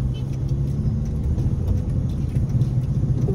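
Heavy road traffic of cars at an intersection, a steady close engine rumble and tire drone with no break, loud and continuous.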